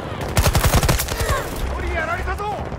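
SMG gunfire in a Battlefield match: a rapid burst of shots near the start, then more scattered fire, with game sounds trailing off afterward.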